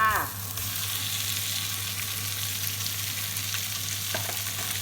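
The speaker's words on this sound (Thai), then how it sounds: "ผัดหมูให้มันสุกก่อนนะค่ะ" Pork belly stir-fries with chili and garlic in a hot pan for holy-basil stir-fry, a loud, continuous close sizzle with a brief sharp scrape at the start and faint stirring clinks later.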